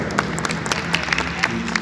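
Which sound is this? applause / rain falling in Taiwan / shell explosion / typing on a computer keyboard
applause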